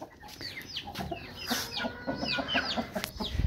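Chickens cluck inside a coop, a flurry of close, overlapping clucks and short squawks from several birds over a low background murmur.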